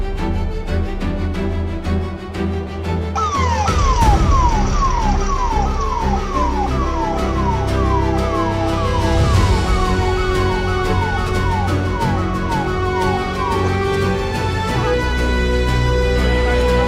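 An ambulance siren wails continuously nearby on a Delhi street after a blast near the Red Fort, its rising and falling pitch repeating over steady traffic rumble.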